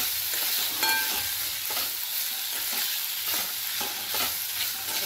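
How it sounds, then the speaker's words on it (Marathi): A spoon scrapes and stirs through a potato curry with coriander powder and salt in a hot pan, giving rhythmic scraping strokes over a constant bright sizzle, close up and without talk. "हे हलवून घ्यायचं आहे सगळं।"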